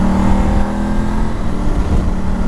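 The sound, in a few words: motorbike engine on a ride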